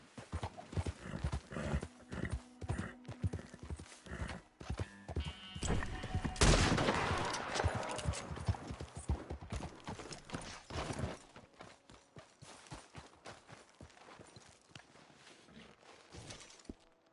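Horse hooves clip-clopping in Red Dead Redemption 2, a repeated rhythmic thud close by, with a loud shattering burst and gunfire crackle midway before the hoofbeats continue more faintly.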